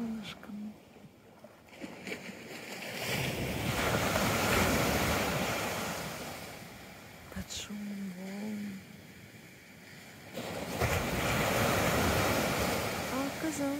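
Broad, rolling wash of sea surf breaking and retreating in slow surges, with wind noise buffeting the microphone and a faint voice briefly audible.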